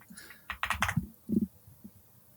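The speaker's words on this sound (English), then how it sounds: "You can hear my keyboard, everybody." Computer keyboard keys clatter in a short close burst followed by a few scattered single clicks, quiet and with no voices.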